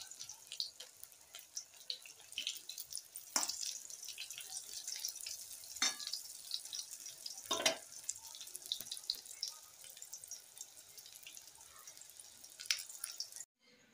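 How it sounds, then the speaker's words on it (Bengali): Brinjal slices frying in oil give a faint, steady sizzle with scattered soft crackles and pops, heard alone without talk. "বেগুনটা ভেজে নিয়ে চিংড়ি মাছগুলো ভেজে নেবো"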